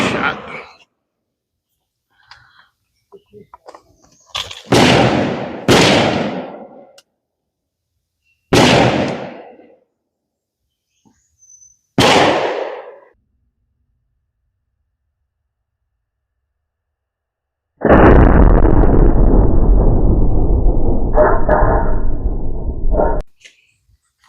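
Traditional black powder muzzleloader rifle fired at a 200-yard range: several loud, sharp reports with short ringing decays, spaced seconds apart, followed by a long stretch of broadband wind rush outdoors.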